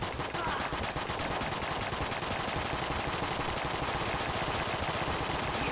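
Rapid, dense automatic gunfire from bouncing bullets in the Enter the Gungeon video game, a constant loud rattle of shots that continues without pause for the whole stretch.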